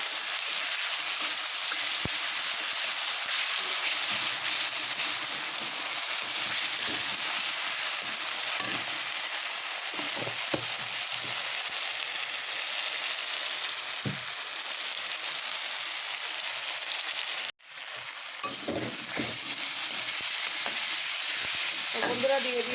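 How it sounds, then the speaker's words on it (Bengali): Green chili, garlic paste and ginger paste sautéing with spices for a catla fish-head moong dal, a steady loud sizzle running throughout with soft stirring scrapes and a brief interruption near the end. "দিয়ে এখন একসাথে সব মশলা আমি কষিয়ে নেব"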